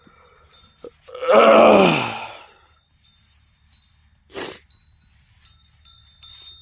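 A goat kept on a farm gives one loud, drawn-out bleat near the microphone, followed by a short, fainter second call and scattered light rustling.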